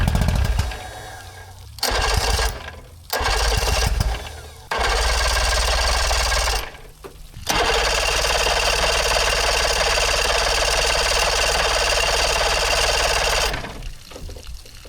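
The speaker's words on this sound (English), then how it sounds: "here's what happened when we tried to fire this engine up" An outboard boat engine with flooding carburetor trouble cranks and sputters in bursts, then catches and runs loud and rough for several seconds before cutting out, with no voices over it.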